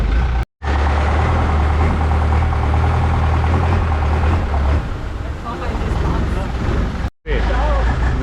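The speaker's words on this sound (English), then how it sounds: "Now you see the truck engine." The truck engine powering a tour boat on a Bangkok river runs loud and close, a rough low drone with water noise, broken by two brief dropouts; people talk over it at times.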